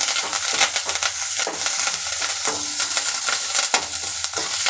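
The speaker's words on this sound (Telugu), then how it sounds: "ఇప్పుడు కరివేపాకు వేసుకొని బాగా ఫ్రై చేసుకోవాలి" Curry leaves frying in a pan before bottle gourd pieces are added, giving a steady close sizzle with repeated stirring scrapes throughout, no voices.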